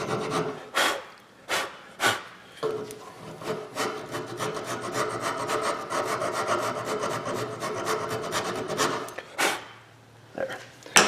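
Metal file scraping rust off a rear brake part on a Nissan Murano, with rhythmic rasping strokes up close that merge into a sustained grinding scrape before returning to separate strokes, with no talking.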